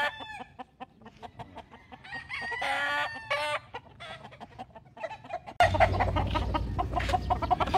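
Several age cock roosters on a farm crow and cluck close by, with repeated clucks and two full crows, then a broader noisy barnyard din in the final seconds.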